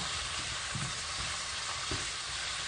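Peppers and other vegetables sautéing for a stovetop ratatouille in a hot pan, giving a loud, steady sizzle with a couple of soft stirring knocks and no voices.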